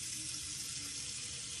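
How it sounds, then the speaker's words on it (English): Tap water pours steadily into a container for washing sprouts, a constant close hiss and splash with no pauses and no voices. "we're just going to put water in it"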